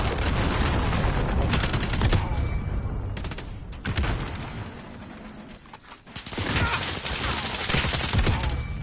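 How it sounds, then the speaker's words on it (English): An enemy cruise missile strike in Call of Duty Modern Warfare multiplayer, a dense, loud barrage of blasts and gunfire with brief lulls near 3.5 and 6 seconds before the roar resumes. "Enemy cruise missile incoming."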